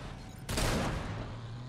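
A short burst of rapid gunfire erupts after a quiet lead-in while shooting enemies in Twisted Metal (2012), loud and dense for about half a second, then trailing into a lingering rumble.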